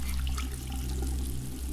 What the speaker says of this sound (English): I need to decontaminate myself from the shower.